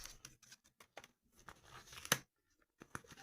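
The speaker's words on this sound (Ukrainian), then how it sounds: "будемо просто руйнувати пакетик" Crinkly packet material is ripped and crunched in short, quiet bursts, with one sharper tear standing out near the end.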